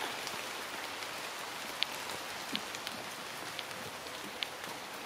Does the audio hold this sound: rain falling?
yes